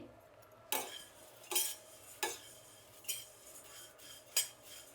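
A spoon stirring a powder mixture in a hot pan, with a few sharp scraping strokes spaced about a second apart over a quiet background, close but soft.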